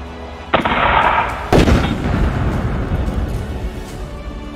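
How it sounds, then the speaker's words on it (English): Heavy gunfire sound effect for a World War II tabletop wargame battle booms loudly, two big blasts followed by a rolling rumble of distant shots. "Sporadic gunfire could be heard as the remaining broken German Fallschirmjäger units retreated."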